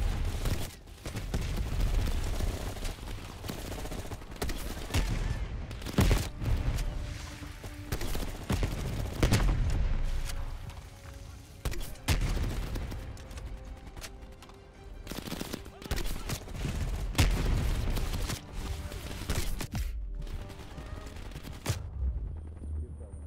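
A firefight in Call of Duty Black Ops Cold War brings dense, continuous gunfire: sharp bursts and rattling automatic shots with booming impacts, loud and busy throughout, and voices at times under the shooting.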